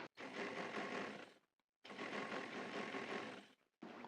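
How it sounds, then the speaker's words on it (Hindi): A sewing machine stitches a trouser with a pintuck design in two steady whirring runs, each about a second and a half long, separated by short pauses, close and alone. "इसको सिलाई लगाते जाएंगे"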